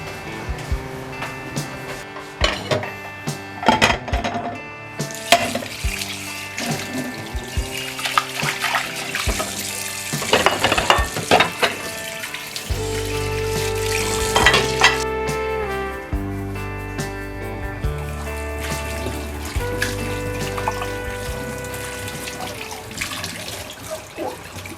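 Water runs and splashes while a cooking pot is scrubbed and rinsed, with clattering and scraping over steady flowing water; background music plays throughout.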